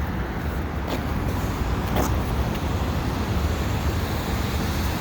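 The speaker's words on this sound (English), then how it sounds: "There's another 51 bus." A number 51 city bus rolls past on Decarie Boulevard, a broad, steady road rumble that holds loud and close throughout with no voices, set against constant traffic noise.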